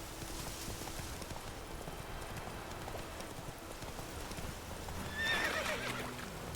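Hooves clip-clop steadily, then a horse gives a short, shrill whinny near the end, close and moderately loud, in the video game The Witcher 3.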